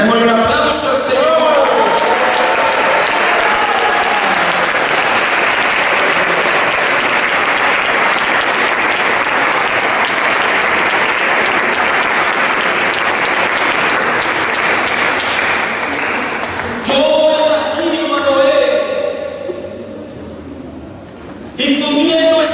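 A church congregation at a Spanish-language Sunday school sermon breaks into loud, sustained applause that fills the room for about seventeen seconds, then tapers as a voice resumes over scattered clapping and music.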